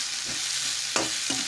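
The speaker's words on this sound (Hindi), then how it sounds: "बस मैं इसे में अच्छे से फ्राई कर लूँगी।" Capsicum and onion frying in a pan for Manchurian gravy: a soft continuous sizzle with a couple of brief spatula scrapes against the pan.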